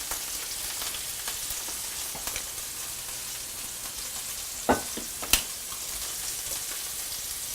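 Browned pork with melting peach preserve and red pepper flakes sizzles steadily in a pan while being stirred, with a constant fine crackle and a couple of sharp utensil clicks near the end.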